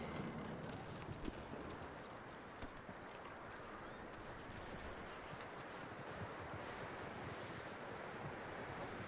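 Steady clip-clop of horse hooves in a Wild West video game against a constant wash of wind and rustling noise, with a faint voice now and then.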